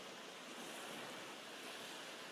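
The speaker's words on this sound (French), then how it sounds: "Vous entendez le bruit des vagues? Il n'a pas changé. Il est toujours là" Ocean waves on a shore make a faint, steady broadband wash with no distinct individual breaks, a soft constant hiss of surf and no talking.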